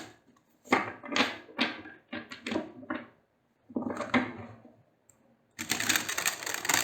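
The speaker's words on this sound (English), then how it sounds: "Let's shuffle like 200 times." A deck of tarot cards is shuffled close up in a run of quick riffling bursts, each a crisp flutter of card edges. Short pauses separate the bursts, and a longer burst ends the sequence.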